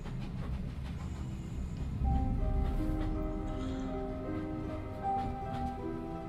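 Train rumbling in the puzzle game The Room 3, a steady heavy low rumble with rolling clatter and tonal rail squeals, growing louder and layered partway through, no voices.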